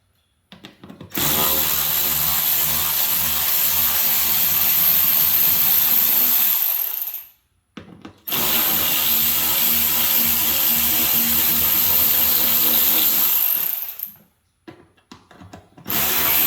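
A power drill fitted with a bit backs bolts out of a 2022 Ford Maverick in two long, loud, steady whirring runs separated by a brief pause, then trails off into a few short bursts.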